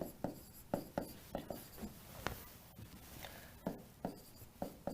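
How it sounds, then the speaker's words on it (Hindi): Pen or chalk writing out math questions on compound interest, a run of short scratchy strokes and taps in uneven bursts, close and faint, with no talking. "सेम क्वेश्चंस वापस लिखते हैं।"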